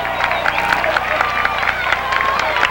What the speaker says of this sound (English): Dutch crowd making a little noise.